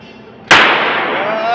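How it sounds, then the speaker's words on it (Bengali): A single loud, close blast of a bomb-like explosion cracks out suddenly, followed by a sustained roaring rumble and a rising whistle-like tone, with no talk. "বম ফাটা যাচ்ছে, বম"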